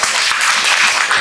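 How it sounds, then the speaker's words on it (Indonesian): Congregation applauding at a church Mass for the feast of Saint Theresa, a brief burst of dense, loud clapping from many hands. "Mari kita beri aplaus kepada kita semua."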